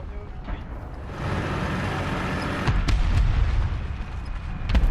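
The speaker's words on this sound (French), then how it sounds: "ça c'est une bombe" A bomb explodes in War Thunder while a KV-1 tank is under attack: a rising roar swells into a heavy low boom, followed by sharp impacts and rumbling debris, fairly loud with no talking.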